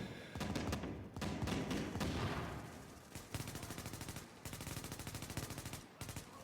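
Rapid bursts of explosive launcher fire and blasts from a shooter video game, dense and loud, with repeated sharp shots rattling in quick succession and no talk.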